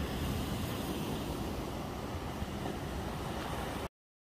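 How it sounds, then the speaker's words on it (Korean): Steady, dense roar of ocean surf and rain whipped by wind at a seaside lighthouse on a rocky point as a typhoon approaches, unbroken and loud for about four seconds before cutting off abruptly. "파도 한번 보세요. 빗소리와 함께 파도가 지금 서서히 지금"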